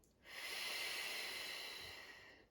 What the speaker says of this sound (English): Deep breath in and relax the belly.